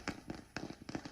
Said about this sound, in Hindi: तो ये पटाखों की आवाज है